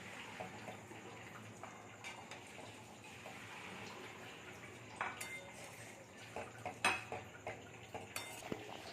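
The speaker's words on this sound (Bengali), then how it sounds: "এবার আমরা এর মধ্যে পনিরগুলো দিয়ে দেবো" Paneer pieces go into a pan with whole green chillies, faint soft clinks and scraping of a utensil against the pan with light sizzling, a few sharper taps standing out near the end.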